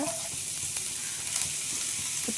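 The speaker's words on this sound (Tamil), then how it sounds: "எண்ணெய் ஹீட் ஆனதுக்கப்புறம் நம்ம கட் பண்ணி வச்சுருக்க பாவக்காவை சேர்த்துக்கோங்க" Cut bitter gourd pieces fry in hot oil, making a steady, dense, close sizzle that holds at an even loudness throughout, with a few faint crackles and no speech.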